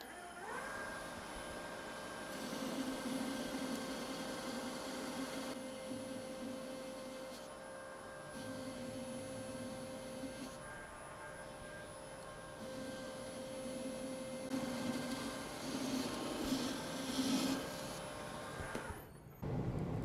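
Metal lathe roughing down stock while turning a precision diameter, a steady whining machine hum with a faint high tone, shifting in intensity as cuts start and stop over about twenty seconds, with no talking.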